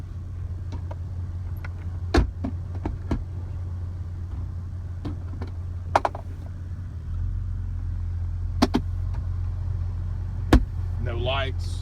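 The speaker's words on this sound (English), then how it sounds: "Truck's been running for what, 10 minutes now or so." A 2001 Toyota Tacoma SR5 pickup idles steadily with a low, even engine hum, while a few brief clicks and knocks sound close by and a voice is heard near the end.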